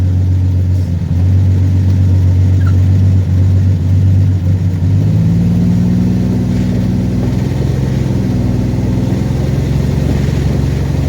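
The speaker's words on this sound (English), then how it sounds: "What a relaxing day driving in the old Dodge Dart." A 1966 Dodge Dart GT engine rumbles loudly and close up while driving, its low drone rising in pitch as the car accelerates partway through.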